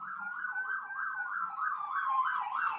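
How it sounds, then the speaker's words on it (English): Emergency vehicle siren wailing in a rapid rising and falling cycle, a clear steady tone at moderate distance with no talk over it. "pardon the sirens"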